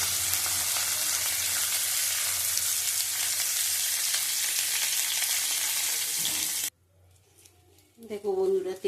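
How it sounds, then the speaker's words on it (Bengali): Bay leaves tempering in hot oil give a loud, dense sizzle and crackle that runs steadily for several seconds, then cuts off abruptly to near quiet, followed by a brief voice speaking close by. "তেজপাতা দিয়ে দিলাম ফোড়ন"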